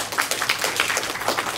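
A seated audience at a Korean entrepreneurship camp lecture gives a short burst of fairly close, dense clapping, with hardly any voice over it.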